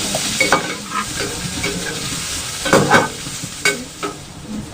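Chunks of root vegetables being stirred and fried in a pan with green chillies, a steady sizzle under repeated scraping and clattering stirring strokes, close and fairly loud with no voices.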